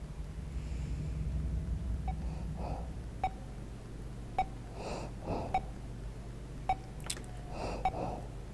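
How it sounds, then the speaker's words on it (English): In The Hospital video game, slow, creepy breathing surfaces as a series of faint, raspy inhales and exhales over a low droning ambience, punctuated by a few brief sharp clicks. "that is the creepiest breathing ever"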